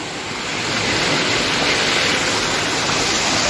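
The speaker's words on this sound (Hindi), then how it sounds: "ये पूरा जब डैम खोलते हैं पूरा पानी इसके अंदर से जाता है, पूरा बहते हुए एकदम रफ्तार में" Water released from the Barvi dam near Badlapur rushes under pressure in a loud, steady roar that builds slightly at the start and then holds constant.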